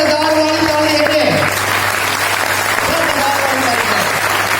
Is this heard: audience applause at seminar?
yes